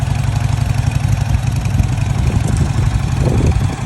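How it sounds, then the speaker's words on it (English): A Harley-Davidson Dyna Wide Glide motorcycle engine idles close up with a loud, steady, deep, lumpy rumble throughout and no voices. "Coming in at number 6 on our list is the Harley-Davidson Dyna Wide Glide."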